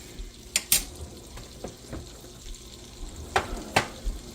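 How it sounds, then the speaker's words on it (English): A tablespoon of butter fries in a pan with a soft, steady sizzle, broken by a few sharp clicks and taps of utensils against the pan. "Have a tablespoon of butter going right now."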